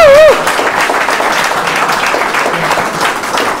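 A church congregation applauding during a service, as steady, dense clapping that fills the room at close range, with a brief voice at the very start.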